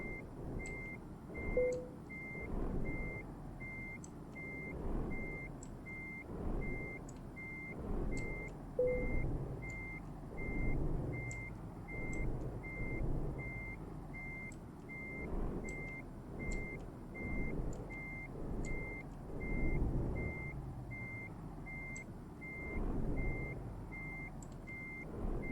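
A truck in Euro Truck Simulator 2 reversing slowly, steady evenly spaced reversing beeps repeating over a low engine drone for the whole stretch, no voices.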